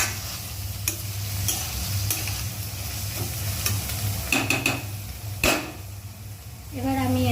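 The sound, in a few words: stirring softened onions in a pan for chicken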